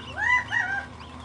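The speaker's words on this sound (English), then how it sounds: "There they are, little tiny quail." Tiny quail chicks in Sedona give a few thin, high chirping calls in quick succession, close by and fairly clear, with soft background noise and no talking.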